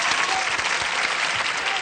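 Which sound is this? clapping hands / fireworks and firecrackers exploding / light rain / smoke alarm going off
clapping hands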